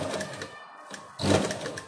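A sewing machine stitches a half collar neckline on fabric, running in two short whirring bursts with a brief pause between them, close and alone.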